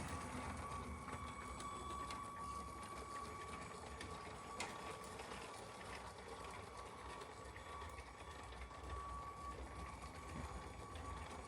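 LEGO train running along an extended elevated track, a steady mechanical whirring and clicking rattle that holds constant throughout with a thin high tone, close and moderately loud with no talking.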